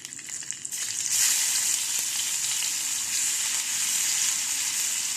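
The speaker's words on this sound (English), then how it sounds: "After the panch foron splutters nicely, we'll add some onions." Panch phoron whole spices sputter and fry in hot oil for Bengali-style gobi palak, a loud, steady, close sizzle with faint crackles throughout.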